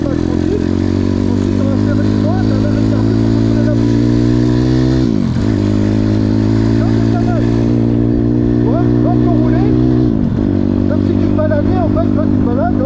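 A Zongshen 180 motorcycle idles and rides out and back, its engine note rising, then dipping as it turns around, twice, loud and steady throughout, with no one talking.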